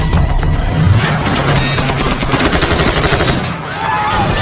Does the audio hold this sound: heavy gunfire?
yes